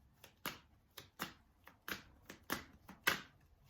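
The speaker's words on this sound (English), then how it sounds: "So we're shuffling for Saturday now." A deck of angel cards is shuffled close by in quiet surroundings, giving a run of soft, sharp riffling snaps about every half second.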